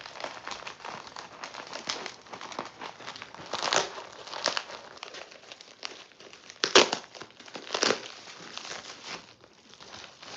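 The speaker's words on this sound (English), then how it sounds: "See if I can just rip this open." A plastic mail bag gets ripped open by hand, close up, with continuous crinkling and crackling broken by a few louder tearing bursts, and no speech.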